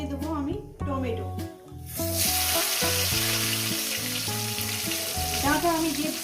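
Tomato frying in a pan with a cumin tempering, part of a poppy-seed bata fish dish, gives a steady broadband sizzle that swells after a moment and runs beneath prominent melodic background music.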